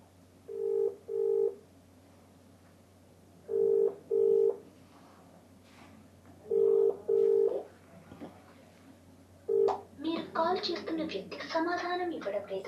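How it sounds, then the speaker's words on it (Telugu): Outgoing call ringback tone to an engineering college principal's phone, with four paired ring bursts spaced evenly and clearly audible; people talk near the end. "ఫోన్ రింగ్ అవుతుంది."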